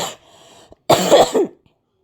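A person coughs indoors, a faint first cough followed after a pause by a louder, raspy burst of several coughs, close and clear with no talk over it.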